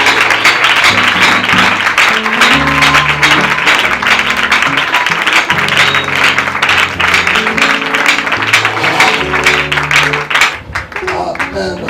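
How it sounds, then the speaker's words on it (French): A church congregation applauds and acclaims the Lord, sustained dense clapping carrying on over a loud rhythmic accompaniment with bass and keyboard notes. "On acclame pour le Seigneur"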